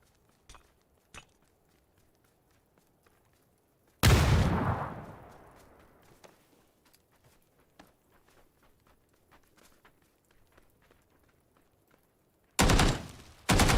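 Enemy gunfire in the online shooter PUBG: a few faint distant shots, then a loud close burst that rings out and fades over a couple of seconds, and a second sharp burst near the end, with quiet footsteps between.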